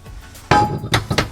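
A hammer taps bolts into drilled holes in a camper's metal beam: one sharp metallic strike followed by two more close knocks, near and loud.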